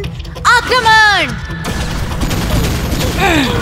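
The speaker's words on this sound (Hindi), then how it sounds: "ब्लू पल्स गन आक्रमण।" A cartoon blue pulse gun fires with swooping, descending electronic zaps, then gives way to a rushing whoosh before another short zap near the end, loud and close.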